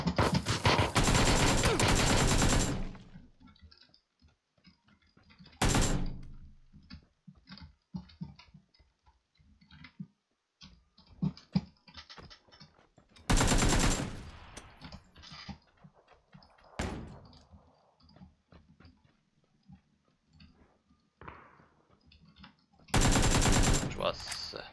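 Bursts of gunfire from a video game battle royale match played solo, loud broadband volleys near the start, at about 6, 13–14 and 23–24 seconds, with sparse ticking and clicking game sounds between them and no talk.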